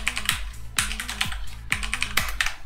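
Rapid clattering keystrokes on a computer keyboard, used as a rhythm-game controller, come in two dense bursts with a steady low hum beneath, close and fairly loud with no talk.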